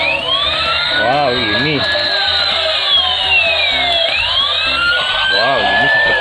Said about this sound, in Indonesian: Apakah mobil pemadam kebakarannya bisa menyala?